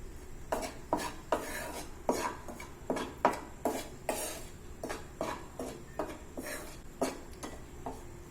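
Atta panjiri roasting in a pan while being stirred nonstop, with a spatula scraping the metal in a regular rhythm of about a dozen close, crisp strokes.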